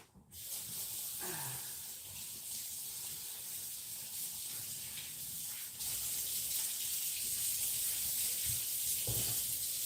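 Tap water runs steadily from a faucet while garden beets are washed, a continuous broadband hiss from start to finish, growing slightly louder partway through, with occasional faint clunks and no talking.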